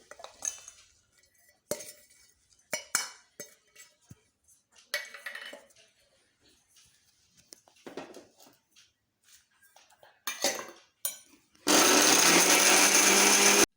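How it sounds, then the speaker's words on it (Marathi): A kitchen mixer grinder whirs loudly as it blends coriander, ginger and green chili into paste, starting abruptly near the end after scattered clinks of utensils and jars. "आता आपण कोथिंबीर, आलं आणि मिरची याचं वाटण मिक्सरमध्ये काढून घेऊ"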